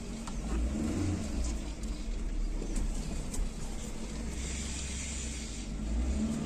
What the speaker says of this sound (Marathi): गाडी मित्रांनो सावलीमध्ये लावतो.